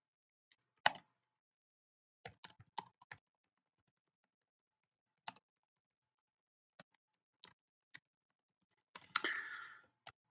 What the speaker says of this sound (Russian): это я вам по-быстрому печатаю